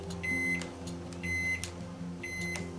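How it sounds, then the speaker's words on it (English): A kitchen microwave oven gives three short, clear electronic beeps about one second apart over a low background hum. "It's gonna beep."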